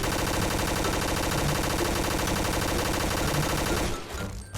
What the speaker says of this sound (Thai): อันนี้เราจะยิงแบบธรรมดาก่อนน ะ แบบไอ้ธรรมดาเรายิงแบบคุมก่อนคือยิงย้ำๆ